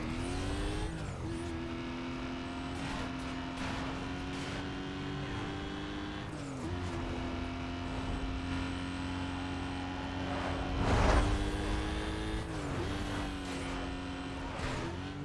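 Race cars in Need for Speed: Most Wanted (2005) roar steadily with engine drone and gear-shift dips, a twin-car chase with a brief louder burst of tire or impact noise near the end; no talk.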